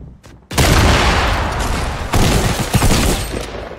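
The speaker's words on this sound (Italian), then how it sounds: "Sta tirando il C4, C4. Penso che esplode tutto." A C4 charge detonates in the Fortnite video game, a loud close blast followed by rumbling debris and a second burst, filling the whole short stretch with dense explosive noise.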